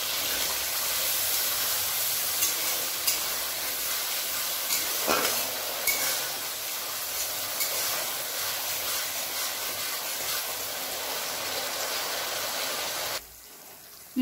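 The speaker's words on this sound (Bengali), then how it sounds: "দু থেকে 3 মিনিট সমস্ত মশলাগুলোকে আমি একটু কষিয়ে নেবো।" Spices with salt and turmeric fry in a pan for a Bengali katla fish curry, giving a steady loud sizzle and hiss that runs almost unbroken before cutting off near the end, with no talking.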